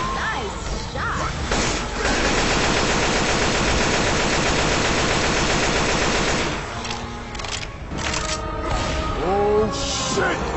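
Rapid automatic gunfire and heavy impacts in the zombie shooter game Left 4 Dead 2, a dense sustained burst followed by scattered shots and clatter, loud and close, with voices talking over the action.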